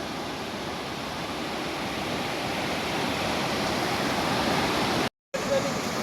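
A dense, continuous rush of flowing river water in Barangay Burabod, Jaro, Leyte fills the scene, loud and steady, briefly cutting out near the end.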